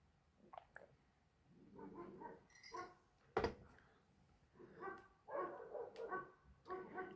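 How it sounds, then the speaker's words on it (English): A dog barks faintly somewhere in the distance, several scattered barks at an irregular pace, mixed with soft clinks of dishes and cutlery in a quiet room. "Dog's barking again."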